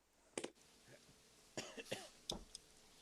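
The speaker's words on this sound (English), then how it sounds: "I heard you coughing" A man coughs and clears his throat in a quiet room, a few sharp separate bursts spread over three seconds, close up and alone.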